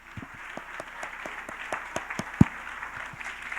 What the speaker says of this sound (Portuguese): Aplauda o Rei.